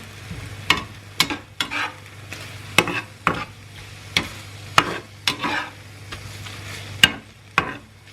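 Dinner cooking in a pan with lemon and soft cheese, spoon or spatula stirring with repeated scraping strokes every second or so over a steady low hum, close and fairly loud, no voices.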